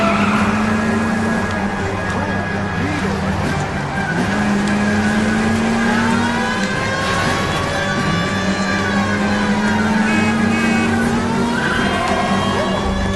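A car chase in the video game L.A. Noire sounds as a continuous loud engine drone with rising and falling revs, plus tire squeals and whines as the car weaves through traffic.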